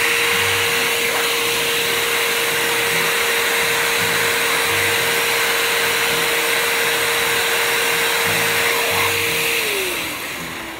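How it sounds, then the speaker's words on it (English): Air is pumped into an aquaponics sand and gravel filter as a loud, constant hiss over a steady hum, running unbroken before tapering off at the very end. "now we're gonna turn on the air and mix it up a little bit."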